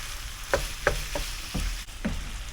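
Rotel pasta sizzles in a pan while being stirred, with a steady frying hiss and several soft scraping strokes of a utensil at irregular intervals.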